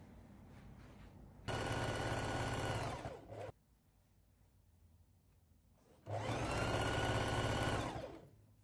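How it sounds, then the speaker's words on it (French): A sewing machine stitches a hem on a summer top, running in two steady bursts of fast, even whirring of about two seconds each, separated by a quiet pause, close and clear. "on va venir piquer tout au bord pour fermer l'ourlet"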